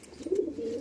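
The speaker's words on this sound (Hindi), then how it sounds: "एक और सेंधा कबूतर आ गया भाई" A Sendha pigeon coos once, a soft, low, drawn-out call rising and holding, near and fairly quiet in a calm indoor setting with no talk.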